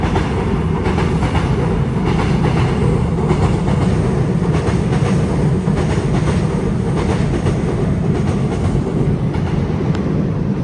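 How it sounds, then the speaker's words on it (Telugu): A metro train rolls up out of an underground tunnel in Korea with a loud, continuous rumble and faint rhythmic clatter of wheels. The sound stays steady and close for the whole stretch. "అండర్ గ్రౌండ్ నుంచి ట్రైన్ వస్తుంది"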